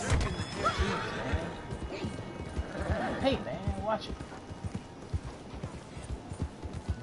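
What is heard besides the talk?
horse galloping and whinnying in the video game Red Dead Redemption 2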